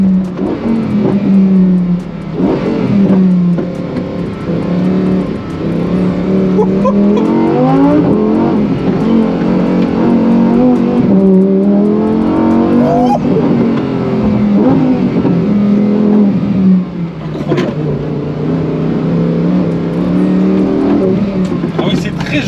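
A Lamborghini Huracan STO, rear-wheel drive, revs hard and accelerates, its engine note rising and falling in loud, continuous sweeps close to the microphone for over twenty seconds.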